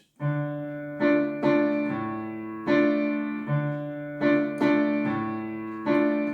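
Block piano chords with the fifth in the bass ring out one after another in a slow, even rhythm, each struck clearly and left to sustain, with a low bass note beneath.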